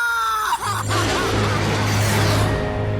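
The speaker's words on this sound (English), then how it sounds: "I vaguely hear a scream of terror that sounds much like my own voice from afar." A loud, sustained scream of terror in the combat flight game Ace Combat 6: Fires of Liberation, rising over a dense rumble of battle sounds and a steady low tone.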